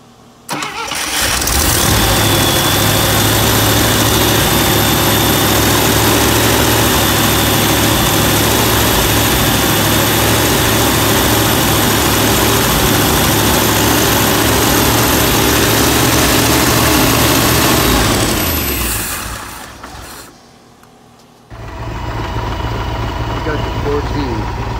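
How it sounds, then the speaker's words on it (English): A 1973 International Harvester pickup, started for the first time in 40 years, idles loudly and steadily for about eighteen seconds, then the engine note drops briefly before resuming. "And it's idling? It's idling."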